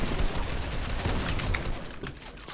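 Sniper and other gunfire in a Fortnite trio arena match, dense and continuous with sharp cracks layered over a loud, busy game soundscape throughout.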